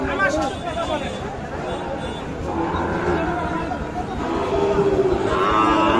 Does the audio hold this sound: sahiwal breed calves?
yes